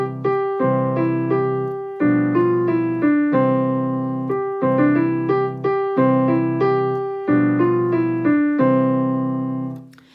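A beginner piano exercise from a Dozen a Day prep book, played at a faster, steady tempo: clear, even chords and notes repeating in a regular rhythmic pattern, close and alone.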